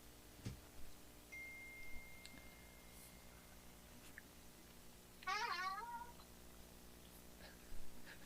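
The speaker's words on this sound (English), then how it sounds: "It's a cat." A cat lets out one clear, wavering meow midway through, faint and somewhat distant against a low hum and quiet room noise, with a few soft clicks around it.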